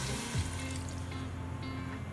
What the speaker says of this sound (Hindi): और इसमें मैं 2 कप पानी डाल दूंगी।